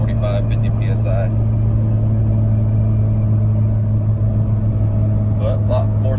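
A 2014 Ram 2500 Cummins diesel truck with an S465 turbo swap drones steadily at half throttle with a deep, constant rumble, and speech runs over it.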